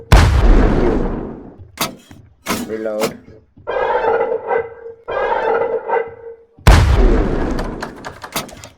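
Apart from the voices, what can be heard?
cannon firing in a video game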